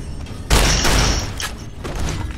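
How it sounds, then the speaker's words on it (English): Shotgun fired in a video game: one loud, close blast with a broad boom, a short rumbling tail and a fainter second report near the end. "I should probably use a shotgun."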